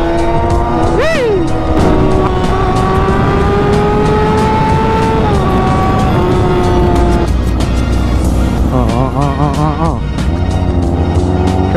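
Road traffic on Arenas Boulevard in Calasiao, Pangasinan, with cars and motorbikes passing close and loud, engines rising and falling, a tire squeal, and a steady hum of vehicles throughout.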